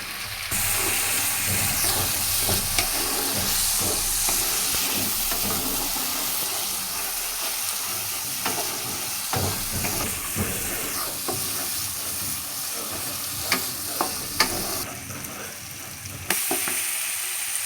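Ground cumin, coriander and a little garam masala frying in hot oil for a prawn malai curry, giving a loud, continuous close sizzle with occasional stirring clicks and scrapes.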